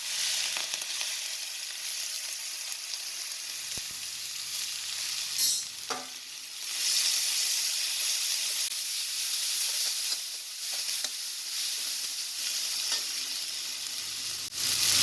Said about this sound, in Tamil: இந்த மசாலா சாமான் போட்டுடலாங்க. வெங்காயம் போட்டுருவேன்.